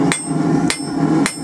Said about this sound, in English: since it's at this nice black heat, we're gonna hammer it a bit